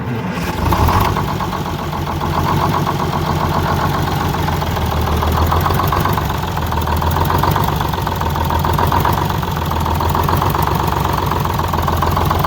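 A vehicle engine catches in a brief burst and then settles into a steady, close, rough idle with an even mechanical throb throughout.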